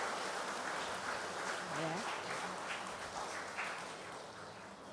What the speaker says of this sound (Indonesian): Mari kita berikan aplaus saudara-saudara